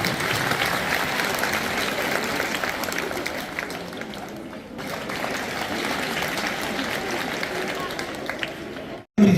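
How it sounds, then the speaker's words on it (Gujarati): Schoolchildren applaud at a high school's Republic Day celebration: dense, sustained clapping from a crowd for about nine seconds, steady and fairly loud, then it cuts off abruptly. "બાળકો તાળીઓથી ગળગડાટ કરે."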